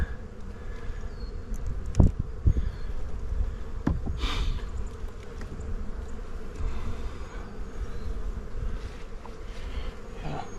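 Honeybees buzzing around an opened hive during a spring frame inspection after winter, a steady close insect drone with occasional louder passes and light handling clatter of the frames, no talking.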